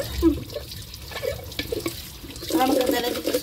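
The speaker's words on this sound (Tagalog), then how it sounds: "malakas ang tubig sa gripo" Tap water running strongly from a faucet into a sink, a steady rushing wash under background talk, growing louder and more gushing toward the end.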